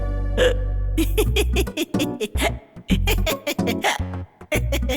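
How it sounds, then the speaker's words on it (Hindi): A string of loud, sharp hiccups sounds close by, coming in quick irregular bursts in a dubbed Hindi film scene, with short spoken bits mixed in. "आपको हिचकी आ गई क्या?"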